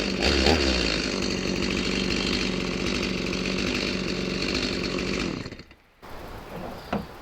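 A small, lightweight entry-level Stihl chainsaw runs at a steady high buzz, loud and close, then cuts out abruptly near the end, followed by a brief quiet and a few faint knocks.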